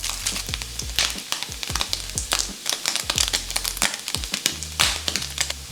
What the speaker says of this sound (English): On a pan, you can put some oil or butter and then add the meatloaf.